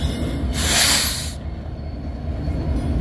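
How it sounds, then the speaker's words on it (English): A long freight train rolls past at Hobson Yard in Lincoln, Nebraska, with loud, close rumbling wheels and a bright metallic squeal or hiss that swells in the first half, then eases back to a steady rolling roar. "And now the second half of this train."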